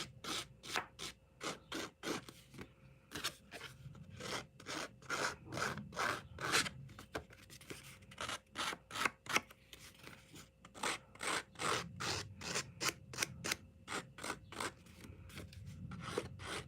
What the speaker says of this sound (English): I'm just going to take my scissors and I'm just going to rough up the edge of this